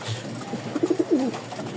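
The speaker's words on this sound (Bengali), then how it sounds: "খুব সুন্দর কবুতরগুলো এক খামার থেকে নিয়ে আসছি" A racing pigeon coos nearby in a short series of soft, low throaty notes ending in a longer rolling coo, over faint background noise.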